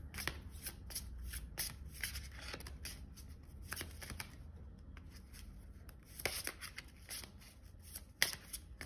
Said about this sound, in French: On va aller te tirer une petite carte conseil pour toi qui as choisi Donald.